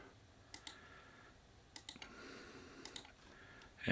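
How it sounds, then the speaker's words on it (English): A computer mouse gives several sharp, quiet left clicks, some in quick pairs, spaced irregularly over a low steady room hiss. "left click with the mouse"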